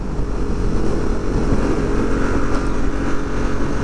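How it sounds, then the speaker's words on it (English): A 2022 Harley-Davidson Sportster S with the liquid-cooled Revolution Max engine roars steadily while riding, a loud continuous rumble with wind noise throughout and no speech. "This engine is a little bit different than the Milwaukee 8, the Revolution Max engine."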